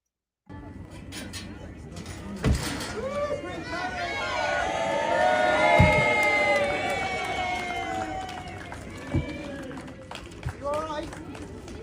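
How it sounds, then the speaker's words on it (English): Crowd of children at a primary school cheering and shouting, a dense, swelling roar of high excited voices building to a peak midway, with scattered claps and thumps and nearby speech mixed in. "Does that sound like a small crowd?"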